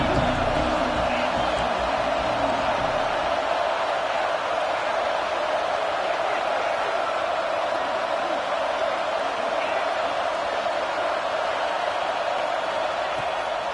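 Stadium crowd noise in the NCAA 26 college football video game, a steady, loud broadband roar sustained throughout as fans rally behind the defense on third down, with no distinct cheers or spikes.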